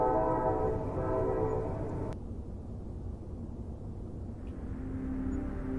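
A moving train rumbles steadily with a loud, drawn-out horn-like tone for the first two seconds, then continues as a lower, even clatter and roar with no voices.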